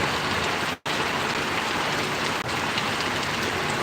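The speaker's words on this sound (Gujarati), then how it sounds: "જાણે ચોમાસાનો વરસાદ વરસી રહ્યો હોય" Steady rain pours down in Paravadi village during a sudden weather change, a dense continuous hiss with one brief dropout near the start.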